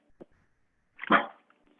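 Dogs bark near a quiet indoor yoga class: one clear, fairly loud bark stands out, with a faint short yip just before it, in an otherwise still room.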